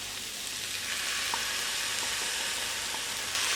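Blended tomato is poured into a frying pan of sautéed onion and spice powders for a soya chunk curry, setting off a loud, steady sizzle up close.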